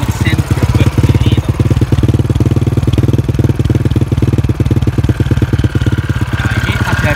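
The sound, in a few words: old motorcycle engine started and idling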